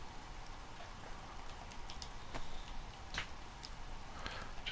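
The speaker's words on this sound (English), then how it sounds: "it's raining again." Rain falls in the video game DayZ, a soft steady patter with scattered sharper drop ticks, faint and continuous with no talk.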